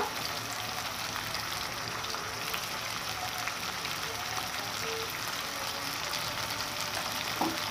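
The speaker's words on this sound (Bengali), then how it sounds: "এখন একটু আমি নেড়ে চেড়ে দিচ্ছি, ভালো করে একটু কষাতে হবে" Ground coriander and cumin fry in oil while being stirred, a continuous dense sizzle like light rain that holds steady throughout, close and even with a faint clink near the end.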